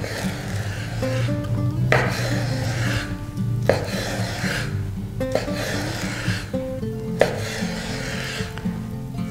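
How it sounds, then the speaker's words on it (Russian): A knife cuts peeled herring into small cubes on a board, giving repeated scraping, rasping strokes in a steady rhythm, close and fairly loud, with short pauses between bursts and no talking. "Очищенную селедку нарезаем мелким-мелким кубиком."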